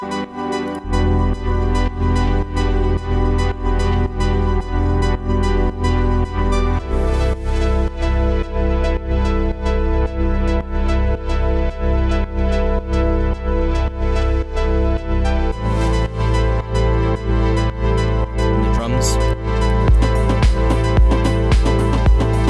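A plucky synth lead plays a repeating melodic loop over steady bass and beat, continuous and loud throughout with no voices.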